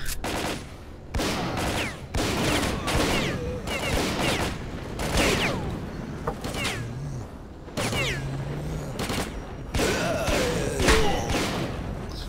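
Repeated bursts of gunfire in the video game S.T.A.L.K.E.R.: Call of Pripyat, sharp shots and rapid volleys in clusters across the clip, loud and close, with game sounds between them and no talking.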